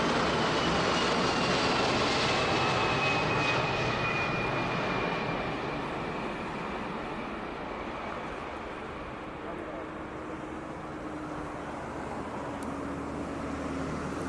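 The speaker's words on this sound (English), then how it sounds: "This is a landing in Hamburg Airport. It is a Boeing 747-400 of Air China." An Air China Boeing 747-400 lands at Hamburg Airport, its engines a broad, loud roar heard from outside that slowly eases and settles into a steady rumble, with a faint whine drifting across it.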